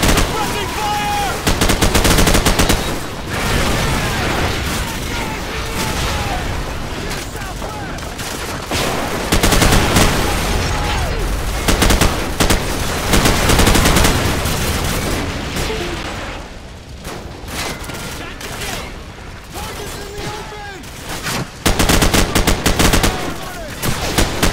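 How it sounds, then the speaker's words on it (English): Sustained suppressing gunfire in the Call of Duty 4: Modern Warfare mission "The Bog", with dense overlapping rifle and machine-gun bursts and booms, loud and continuous throughout and hardly pausing. "Suppressing fire!"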